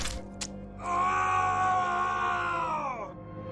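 A man screams in pain after being stabbed in the shoulder with a knife: a brief faint cry, then one loud, sustained, strained wail lasting about two seconds that bends downward before cutting off.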